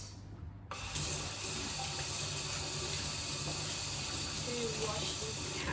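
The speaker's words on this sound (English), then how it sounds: "Wash these carrots." Tap water runs steadily into a sink while two carrots are washed under the stream, a continuous close hiss that starts abruptly and holds evenly to the end.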